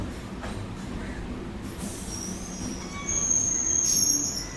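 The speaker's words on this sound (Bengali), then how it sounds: "আর এই যে আমাদের ট্রেনটা ঢুকে গেল শোভাবাজার স্টেশন" A Kolkata Circular Railway train pulls into Shobhabazar station, steady rumble of wagons underneath rising high wheel squeal that sharpens and grows louder near the end, no voices.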